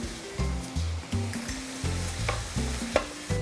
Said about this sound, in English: Our onion, ginger, green chili and curry leaves are cooked with just half to 1 tablespoon of coconut oil.